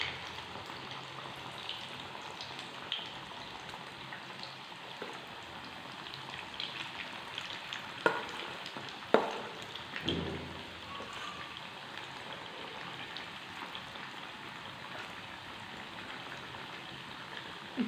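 Leftover rice snack batter frying in hot oil over a high flame, a steady soft crackle and sizzle with a few brief louder spatters, heard close and alone.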